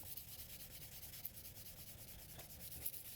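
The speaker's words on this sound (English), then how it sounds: "It's just polishing, that's all." A Moritaka gyuto knife blade is polished with steady, even rubbing strokes, a soft continuous abrasive hiss at close range with faint rhythmic pulses and no voices.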